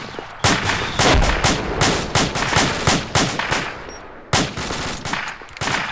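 Rapid gunfire from an infantry squad in a field exercise, loud, close bursts of sharp shots cracking in an irregular, overlapping volley, with brief pauses and echoes trailing between reports.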